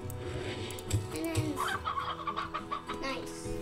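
Hens cluck in a short, busy run of calls over steady background sound from the video game Slime Rancher, with a faint voice mixed in.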